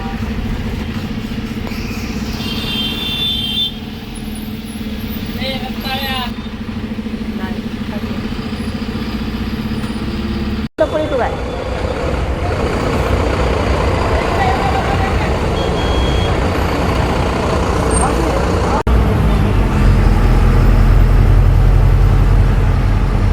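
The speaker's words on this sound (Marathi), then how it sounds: "हे बघू शकता, पुण्याची ट्रॅफिक 10 वाजले तरी" Pune road traffic with buses and cars, engines idling and rumbling nearby in a constant heavy drone, with a brief sharp knock partway through and louder engine noise afterward, voices talking over it.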